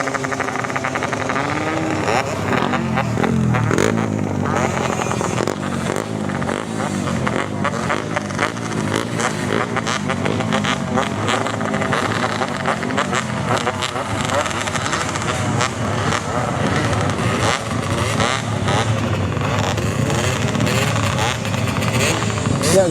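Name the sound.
two-stroke motorcycle engine revving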